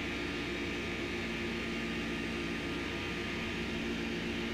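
Jet engines of an airliner in a flight simulator game whine and roar in a steady, unbroken drone with a broad hiss, constant and fairly loud throughout, with no talking.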